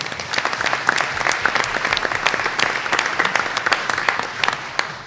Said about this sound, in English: How about a round of applause for those 2?